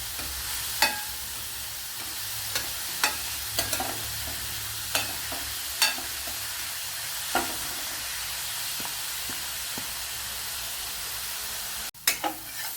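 Beans and carrots with salt cook on low flame in a covered pan, a quiet sizzle under scattered scraping stirs and a clatter near the end as the lid is handled.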